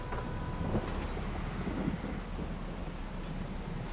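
Rain falls in the Farming Simulator 22 video game as a steady, dense hiss of rainfall that stays even throughout, with no speech.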